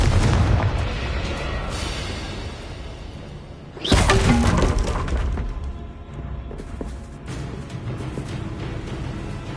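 A Confringo fire spell from the game Hogwarts Legacy explodes with a loud burst near four seconds, set within a dense, noisy mix of ongoing game effects.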